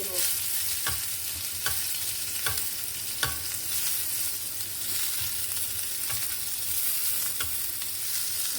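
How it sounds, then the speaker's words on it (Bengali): Pieces of pointed gourd (potol) sizzling in hot oil, a constant frying hiss with a regular series of light taps and scrapes as the pieces are turned one by one, close and steady, no talking. "এখন আমি উল্টিয়ে দিচ্ছি এইভাবে আমি সব উল্টিয়ে পাল্টে বাদামি কালার করে ভেজে"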